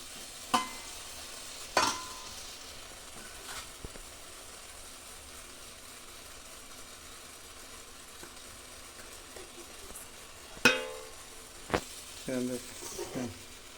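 A spoon stirs bread upma in a pan, scraping in a few sharp, separate strokes over a quiet, low kitchen background, with a soft sizzle and occasional voice in between.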